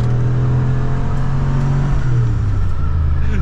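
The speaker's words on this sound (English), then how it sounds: "Just listen to that exhaust." A 1946 Chrysler Town & Country gives off a loud, steady exhaust drone and low engine hum while driving, heard up close with no talking.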